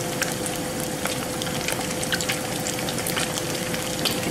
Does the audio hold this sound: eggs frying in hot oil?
yes